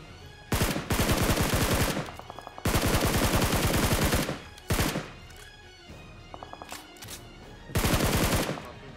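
Automatic gunfire from the BGMI (Battlegrounds Mobile India) video game in a high-tier lobby: several loud bursts of rapid shots, each lasting about a second, with brief single shots between them.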